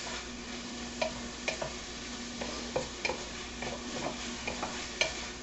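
A spoon stirs oregano into beef enchilada filling in a pan, making soft scraping strokes and small irregular taps over a faint steady sizzle, close and quiet with no voices.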